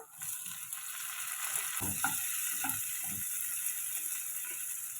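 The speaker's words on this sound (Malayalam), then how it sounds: "നമുക്കിനി ഇതിലേക്ക് കട്ട് ചെയ്ത് വെച്ചേക്കുന്ന ടൊമാറ്റോ ഇട്ട് കൊടുക്കാം" Chopped tomato dropped into a pan of sautéing small onions sets off a steady, bright sizzle, with a few soft clatters and stirring clicks near the start, no voices.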